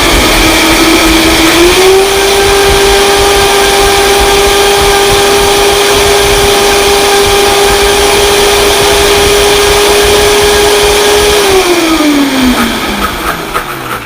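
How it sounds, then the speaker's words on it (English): A regular kitchen blender whirs loudly through pre-soaked nuts and water, spinning up to a steady high-pitched drone that holds for about ten seconds before winding down. "You can use a regular blender. You just want to make sure that you soak your nuts so that they blend really easily."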